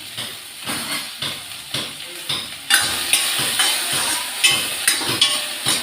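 Okra sizzles and hisses in a hot, heavy pan, with repeated stirring scrapes at a steady rhythm, close up and fairly loud.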